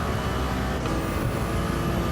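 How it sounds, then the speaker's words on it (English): Loud race car engine in Gran Turismo 7 played in VR, a dense steady roar filling the whole clip with a high whine riding on top, no pauses or speech. "This car is very loud."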